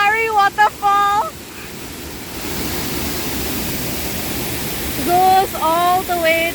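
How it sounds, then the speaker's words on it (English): Taman Sari Waterfall in Bali roars as a steady broadband rush of falling water throughout, with a person speaking over it at the start and again near the end. "We are at Taman Sari Waterfall."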